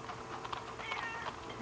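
Repeated cat meows in Kingdom Hearts 2's Pride Lands, several short mewing calls spaced through a steady game-ambience background, moderately loud with no speech.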